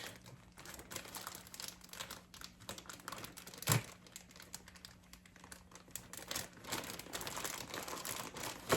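Plastic freezer bag packed with collard greens crinkles and rustles as the air is pressed out and it is sealed and folded, a steady close crackling throughout with a sharper snap midway.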